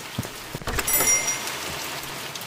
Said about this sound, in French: Allez, en plus il pleut